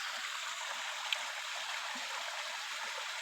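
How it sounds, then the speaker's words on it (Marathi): Clear, cold water of a stream beside a farm field flows in a steady, even rush, close and continuous with no talking. "बघा किती छान मस्तपैकी पाणी चालू आहे. पाण्याचा आवाज येत असेल तुम्हाला"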